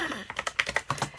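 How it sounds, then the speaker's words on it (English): Keys clacking on a Freewrite Alpha typewriter-style keyboard, a quick irregular run of about nine crisp, close keystrokes heard alone. "This is my first time writing on my Freewrite"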